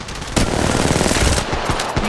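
Automatic gunfire rattles in the mobile battle royale game Apex Legends Mobile, a loud close burst of rapid shots running nearly the whole moment with a few sharper cracks near the end.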